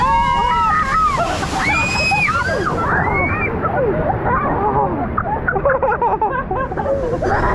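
Water sloshing and splashing from a waterfall during a rapids boat ride at a theme park, a loud continuous rush and churn while excited riders shout and talk over it.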